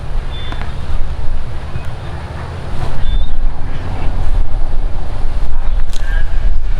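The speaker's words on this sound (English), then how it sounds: "this wind's really starting to play tricks out here" Gusting wind buffets the microphone on an open disc golf course, a steady low rumble that swells louder partway through and stays strong, with no voices over it.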